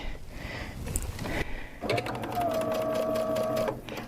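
A sewing machine runs steadily for about two seconds, piecing quilt fabric, with a sustained mechanical whir and a rising motor tone; a voice speaks briefly before it starts.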